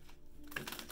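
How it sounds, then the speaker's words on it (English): Tarot cards being shuffled give off a brief burst of crisp, papery clicking and riffling close to the microphone, with no voices over it. "There is some shuffling on camera."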